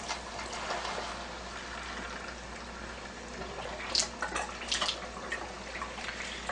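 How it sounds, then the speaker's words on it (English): Water runs steadily through a Leveluk SD-501 water ionizer to flush out calcium, a soft continuous flowing hiss with a few brief splashy bursts near the middle, fairly close and quiet, no talking. "I'm just going to go ahead and run water through it to clear out any calcium that may be floating inside the machine."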